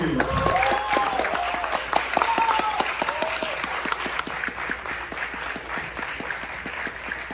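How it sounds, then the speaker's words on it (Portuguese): A theater audience claps for filmmaker Cacá Diegues at a screening of Bye Bye Brasil, with loud sustained applause up close, a few voices mixed in, and the clapping gradually thinning. "Então eu queria pedir uma salva de palmas para o nosso grande mestre"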